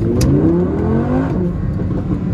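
Audi R8 V10 accelerating on a straight, a steady mid-range engine drone rising in pitch with a brief crackle near the start, close and loud throughout.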